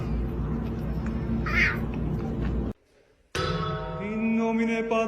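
A cat meows loudly and drawn-out at close range, falling briefly silent, then lets out another long, wavering meow.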